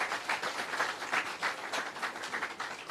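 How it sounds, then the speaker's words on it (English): A brief round of applause for schoolchildren at an outdoor launch ceremony for a restored scenic avenue in Jamaica, moderately quiet, even clapping from a gathered audience lasting a few seconds. "Another round of applause for the kids."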